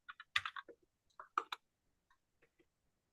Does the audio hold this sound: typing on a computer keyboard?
yes